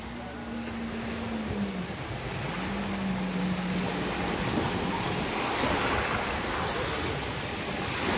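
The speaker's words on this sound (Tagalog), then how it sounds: "Maalon na, no? Kanina ang ganda ng dagat eh." Continuous roar of rough sea surf with wind buffeting the microphone, and a low engine drone underneath.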